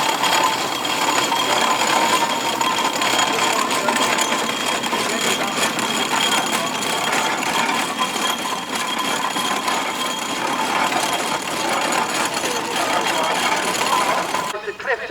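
A steady, loud mechanical clatter of a 1906 Aveling and Porter general purpose steam traction engine running continuously at a steam rally, with rapid rhythmic knocking and hiss throughout, cutting off at the end.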